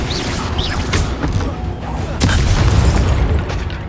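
Confringo fire spell blasts in Hogwarts Legacy: loud booming explosions and crashing impacts during a fight with an Ashwinder, layered over game effects, with a strong burst about halfway through.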